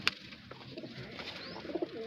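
A female pigeon at a pigeon keeper's loft in Bareilly coos softly a few times, faint against a low background hum.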